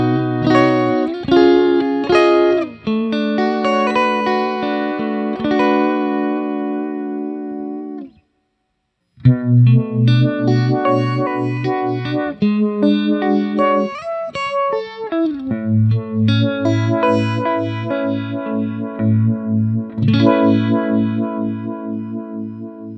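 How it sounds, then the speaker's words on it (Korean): An electric guitar plays chords and lead lines through a JAM Pedals Retro Vibe, a Uni-Vibe style pedal, giving a swirling, pulsing modulation, with a brief pause midway before continuing. "레트로 바이브는 명기 유니바이브의 사운드를 재현하고 페달보드 친화적인 모습으로 완성된 멋진 꽃무늬 페달이죠"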